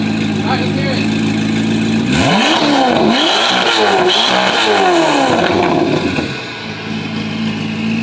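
A Corvette C8 ZR1 with a loud custom exhaust and audible turbos idles, then gets several sharp, close revs that rise and fall in quick succession before it settles back to a steady idle.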